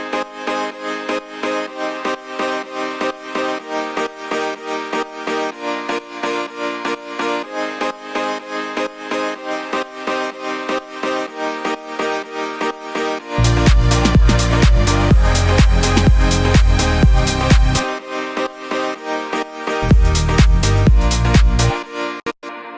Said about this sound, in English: I heard like electric piano, I heard like almost like clicky clacky, sounded like a guitar pluck, but like a Korg M1 sounding guitar pluck.